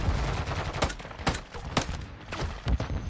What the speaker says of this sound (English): I'm loving the deagle. I might actually just use the deagle as my main gun.